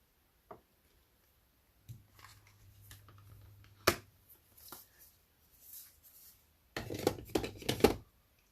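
Paper cardstock being cut and stamped for a handmade pumpkin card, scattered snips and taps followed by a sharp thump and a dense burst of rustling and crunching near the end, close with no talking.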